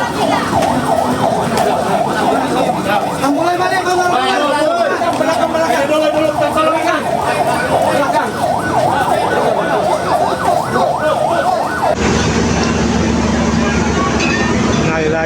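Multiple ambulance sirens wail continuously and loudly in the aftermath of a train crash in Bekasi, their rising and falling tones layered over constant chatter and voices of people nearby.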